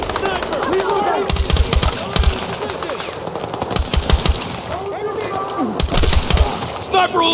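Heavy automatic gunfire from the Battlefield 6 campaign mission "Always Faithful": sustained machine-gun bursts and repeated shots hammer throughout, with louder volleys near the middle and end over a dense battle din, and voices call out amid the fire.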